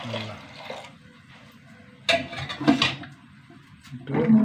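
Short bursts of water splashing and gurgling into a metal pressure cooker pot of lentils and potatoes, with a clink of cookware between pours.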